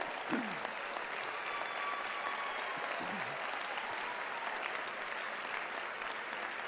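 At a university fall commencement ceremony, the crowd applauds the graduates' standing mothers and fathers: a steady, even wash of clapping from a large audience filling a big hall, with faint voices mixed in.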